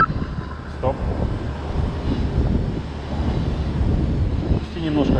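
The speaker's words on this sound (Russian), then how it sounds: "Паш, не слышу тебя, ветер дует в матюгальник" Strong wind roars across the microphone during a 60-ton crane lift in stormy weather, a loud, steady rumble with a voice talking briefly underneath.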